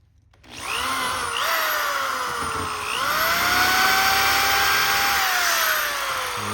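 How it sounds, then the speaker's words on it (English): A power drill whirs steadily at high speed, its pitch dipping and rising as the bit bites, running loud and close for several seconds after a brief quiet start. "Now I'm going to drill it next."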